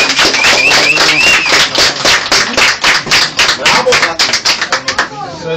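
Guests at Fátima's fifteenth birthday party clap in a loud, dense burst of many hands, rhythmic and close, with voices and cheers mixed in before it thins toward the end.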